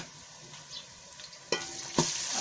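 Garlic paste frying in oil with browned onions for a spicy meat curry, giving a steady close sizzle broken by two sharper bursts of spattering as the mixture is stirred.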